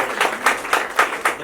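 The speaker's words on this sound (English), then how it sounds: "We please give a round of applause for" Round of applause at an art gallery event: several sharp, evenly spaced claps, close and fairly loud, forming a short rhythmic burst.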